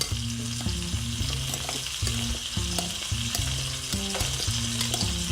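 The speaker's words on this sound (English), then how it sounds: "Add that in, give that a quick stir." Seasoned tomatoes sizzle and fry in a pan while a utensil stirs them, producing a close, steady crackle with repeated scraping strokes.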